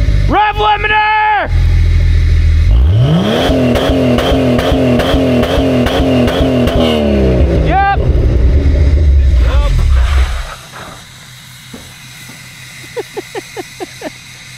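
A Ford Bronco engine revs hard in the snow and holds against its rev limiter, loud and close, with a sustained rising whine before dropping off to a low rumble; a voice is briefly heard near the start.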